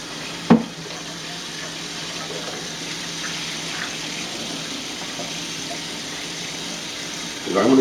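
A 16-bean mix of dry beans is rinsed under a running kitchen tap: a steady stream of water pours for several seconds, bracketed by a sharp knock at the start and a clunk at the end.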